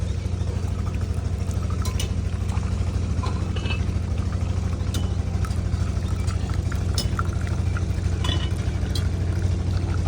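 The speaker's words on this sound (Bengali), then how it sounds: "এই যে এখানে চা ঢেলে দেওয়া হচ্ছে" Tea is poured at a brick kiln, a continuous liquid pour over a loud steady low hum from the surroundings, with faint clinks and splashes scattered throughout.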